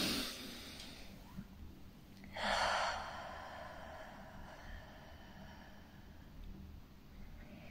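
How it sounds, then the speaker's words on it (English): One deep breath drawn in during a calm rose-petal reading, a soft airy inhale of about half a second standing out from quiet room tone. "Take a deep breath in with me right now."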